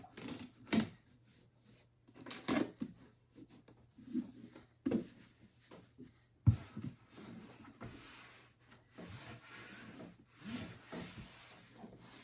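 Packaging being torn apart by hand during re-packing for shipping: close, scratchy ripping and rubbing bursts in uneven spurts, with a longer continuous tear partway through.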